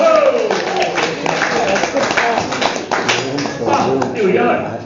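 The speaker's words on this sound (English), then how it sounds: "Give yourself a clap" Group clapping after a sea shanty, uneven hand claps mixed with shouts and lively voices talking over them throughout.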